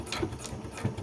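Domestic sewing machine making a short backstitch, a brief burst of quick mechanical whirring with a couple of low thumps, close up and with no talking.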